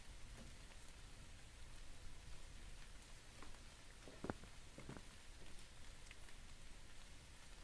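Steady rain falling in the Japanese suspense game 真昼の暗黒, a continuous soft hiss of patter with a couple of faint thuds, no voices present.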